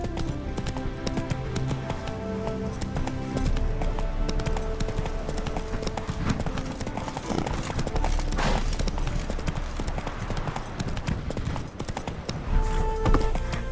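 Roach, a horse in The Witcher 3, gallops in a steady run of hoofbeats over a dense game soundscape with music, continuous and fairly loud throughout.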